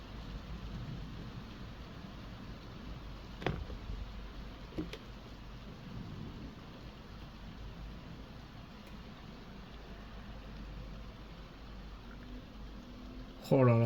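A thunderstorm directly overhead in Bordeaux, steady rain hiss with a couple of sharp thunder cracks and a louder burst at the end, recorded from home.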